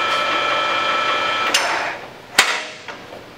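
A Willis Machinery CP1550 lathe runs with its spindle turning, giving a steady close mechanical whir and hum that fades toward the end, broken by a couple of sharp metallic clicks.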